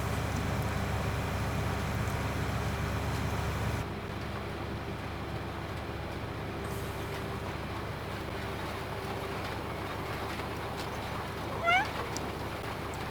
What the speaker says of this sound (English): That's my cat talking to me.